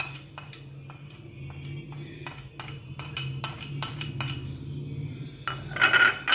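Metal utensils clink and scrape against a pot of mutton with ginger-garlic paste, salt and turmeric in quick irregular strokes, with a low cooking sizzle underneath.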